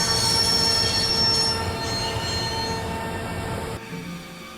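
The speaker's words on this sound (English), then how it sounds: "I'd always wanted to stop a train, and now was my chance." Train wheels squeal loudly as a train is brought to a stop in the Broken Sword video game, a harsh sustained metallic screech over rumbling rails that eases slightly and then cuts off near the end.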